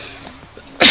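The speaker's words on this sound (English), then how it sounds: "I need to sneeze." A single sharp sneeze bursts out at the very end after a moment of quiet, loud and close.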